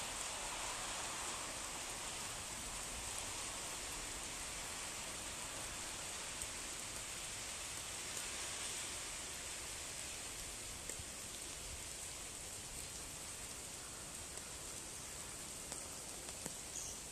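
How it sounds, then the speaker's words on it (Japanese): Light rain falls steadily outdoors in Japan, a soft even hiss with occasional faint drops, continuous and alone with no talking. "雨降ってますが、まあ、小降りですね。"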